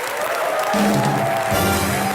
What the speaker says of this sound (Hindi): एक बार रजत सर के लिए जोरदार तालियां